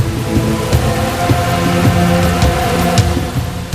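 Torrential rain pours down hard and steadily with dense close drops, and low rumbles of thunder roll underneath throughout, no voices.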